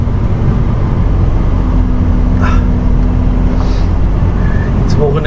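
Steady engine drone and road rumble from a vehicle driving home from a machinery yard, heard from inside as a loud, continuous low hum with faint passing noises and no talking.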